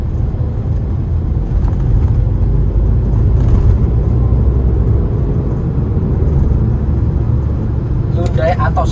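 Engine of a 2014 Honda Mobilio with manual transmission driving in third gear, a steady loud low rumble with road noise throughout and a brief sharper sound near the end.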